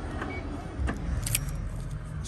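A set of keys jangles briefly and close by while a Ford Transit Custom van is locked, a short metallic rattle over faint background noise.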